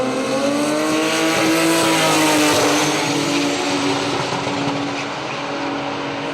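Drag racing cars, an XD and a Cortina, roar loudly down a raceway's side-by-side lanes, a sustained engine drone with a steady pitch rising then easing as they pass, with no talk.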